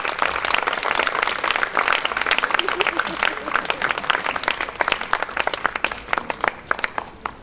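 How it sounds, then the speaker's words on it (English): Lively audience applause for a theatre cast, many hands clapping densely and loudly throughout with individual sharp claps standing out near the end. "Give them a round of applause, please."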